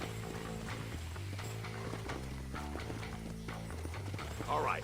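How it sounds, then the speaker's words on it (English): Horse hooves clip-clop at a steady riding pace in the Red Dead Redemption video game, a rhythmic close trot over continuous game music, with a short whinny near the end. "saddle up my horse, you know, riding to the city."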